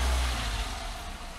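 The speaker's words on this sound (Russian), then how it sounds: "папа машину выгоняет" Car engine running close by as a family car is driven out of a village yard in Crimea, a steady low rumble with slight revving, no voices.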